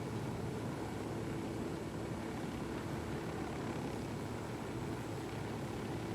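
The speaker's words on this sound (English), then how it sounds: "That's the helicopter that we need," Helicopter in the video game 7 Days to Die, a steady unbroken rotor and engine drone with a constant level and no pauses.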